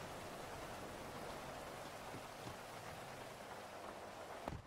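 Rain falling outside, a steady, soft, even hiss of drops on surfaces that stays constant throughout, faint and distant, with no voices and a brief knock near the end.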